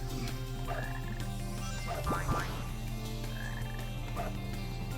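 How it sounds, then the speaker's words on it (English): Frogs croak in a Sonic Heroes forest stage, repeated throaty calls over a steady background hum of game ambience and music, moderately loud with no talking. "There's a frog over there."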